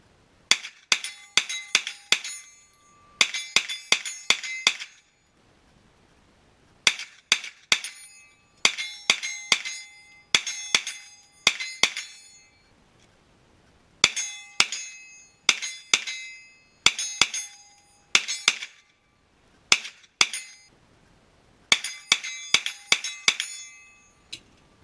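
A Hi-Point carbine fires at an outdoor range in rapid strings of sharp, loud reports, several shots per burst with short pauses between groups, carrying on with no talking.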